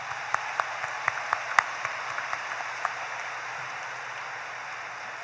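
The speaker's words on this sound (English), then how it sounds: "please join me in a round of applause as we recognize all of our support systems" At a 2024 Lebanon High School graduation, scattered individual claps ring out over a soft background hiss for the first few seconds, then die away into quiet room noise.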